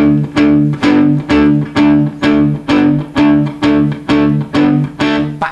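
Palm-muted electric guitar power chords on A, chugging in a steady rhythm of about a dozen short, damped distorted strums, loud and close with no talking.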